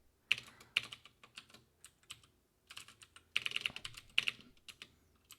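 Close, crisp keystrokes on a computer keyboard, typed in quick irregular bursts separated by short pauses, with no talking.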